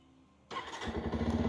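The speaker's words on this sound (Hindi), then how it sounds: "अब स्टार्ट करते हैं इसको।" After a quiet moment, a motorcycle engine fires up abruptly and settles into a steady, close, chugging idle that grows slightly louder.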